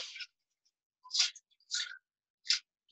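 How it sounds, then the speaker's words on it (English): Four short, dry scratching scrapes of a dream catcher against a wall, separated by pauses, close and fairly quiet, with no talking. "If I put it on my wall and it scratches the wall, it sounds like."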